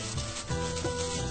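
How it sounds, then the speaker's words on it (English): Aluminum foil being wrapped around a smoked corned beef brisket: close, crinkly rubbing and scrunching that comes in a few quick bursts, with no voices. "now what we want to do is wrap the brisket in aluminum foil"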